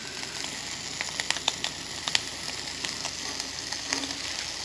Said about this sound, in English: I like to get a good crisp on the egg.